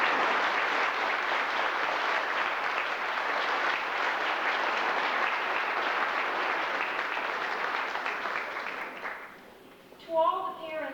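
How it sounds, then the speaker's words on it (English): Sustained applause from an audience honoring the Ladies' Auxiliary at a school graduation ceremony, a dense, steady wash of clapping for about nine seconds that fades out, followed by a voice briefly speaking. "Would you please join with me in a round of applause to show the ladies just how much we've appreciated"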